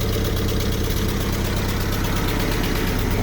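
A 1950s M38A1 Jeep idles right at its tailpipe, a steady, fairly quiet low rumble with an even throb that holds unchanged throughout, with no voices.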